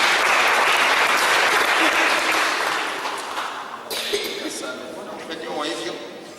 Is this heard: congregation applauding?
yes